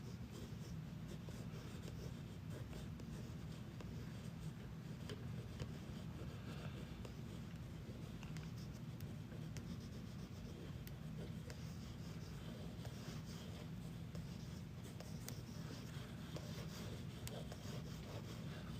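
A pen moves across paper in a continuous faint scratchy rubbing as drawing goes on steadily during a long live drawing session, with low background noise and no talk.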